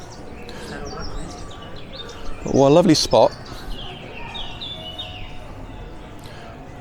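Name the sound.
birds singing in a town square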